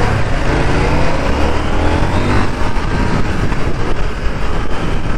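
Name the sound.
KTM 890 R motorcycle engine accelerating in second gear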